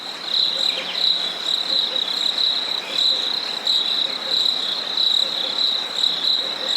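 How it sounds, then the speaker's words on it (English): Crickets chirp steadily as a sound effect, a bright high trill pulsing in a continuous rhythm at a fairly loud level with no talk over it. "Where's my crickets?"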